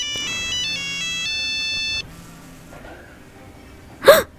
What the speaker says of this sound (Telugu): మళ్ళీ ఫోన్ చేస్తున్నాడేంటి